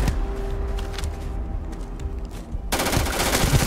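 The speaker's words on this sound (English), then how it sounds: "Time to go back to our rifle and take care of the third." Rapid rifle gunfire in the sci-fi shooter Starfield, a dense continuous burst of shots with a loud, close crack that builds toward the end, with no talk over it.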